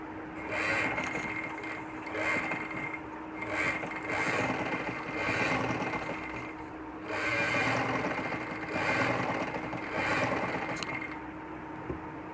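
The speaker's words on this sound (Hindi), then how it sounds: "इसे टर्न करने के बाद इसकी यहाँ भी इस तरह सिलाई लगानी है" A domestic sewing machine stitches a baby frock, running in steady whirring bursts with short pauses between seams, close and continuous, with no voices.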